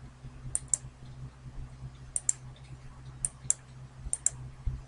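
Sharp paired mouse clicks repeat every second or so, crisp and close, each double click standing out over a low steady hum while someone works on a computer modeling a stair railing in Archicad 17.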